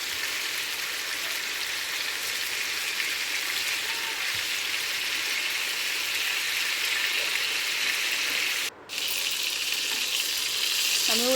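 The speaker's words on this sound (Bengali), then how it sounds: "তো আমি মিডিয়াম আঁচে এই কোপ্তাগুলো ভাজবো।" Koftas fry at medium heat in hot oil in a wok, a continuous bright sizzle and crackle that holds steady for several seconds, close and loud, with one brief dropout near the end and no talking.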